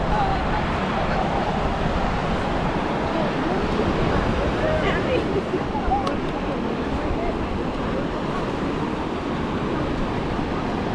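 Ocean surf rolling onto the beach at St Augustine, a steady broad wash of breaking waves with wind noise on the microphone, continuous and fairly close throughout.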